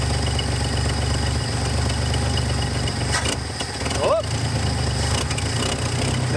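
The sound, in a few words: old farm truck engine idling with exhaust leak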